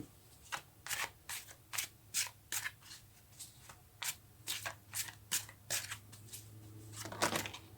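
Tarot cards handled and drawn from a deck, a run of about fifteen crisp, evenly paced flicks and shuffling rustles, close and fairly quiet, with no voices.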